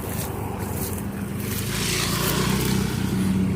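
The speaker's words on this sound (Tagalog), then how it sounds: "Dito ka lang sa gilid kasi may motor." A motorcycle engine rumbles along a rural road lined with corn fields. Its broad roar grows steadily louder toward the end of the short stretch, with no voices.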